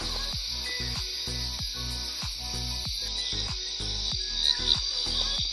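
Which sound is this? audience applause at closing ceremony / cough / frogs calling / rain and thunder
frogs calling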